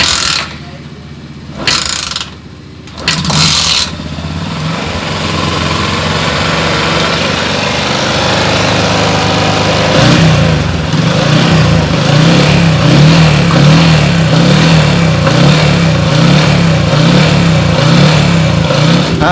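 A motorcycle engine cranks and stutters several times, then catches and runs loudly and roughly, with repeated revving after a carbon cleaner spray treatment; the engine is close and fills the whole clip.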